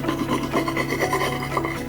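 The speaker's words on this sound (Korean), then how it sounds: "저는 사포 넣고 집에 발 각질 제거제 있는데 이걸 한번 해보려고요." A foot callus remover rasps back and forth inside a drilled hole during a DIY campervan sink build, a continuous close scraping and rubbing with no talking.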